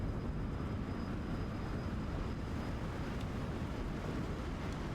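F-100D jet taking off in the DCS video game, a steady broadband engine roar with rushing air noise, loud and unchanging throughout.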